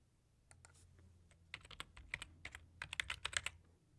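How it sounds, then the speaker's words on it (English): Fingers type on a computer keyboard, entering plain text into a form mail script: a sparse few keystrokes, then a quicker burst of crisp, close clicks, faint and alone. "in that case, I would simply type"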